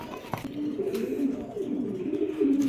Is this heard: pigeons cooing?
yes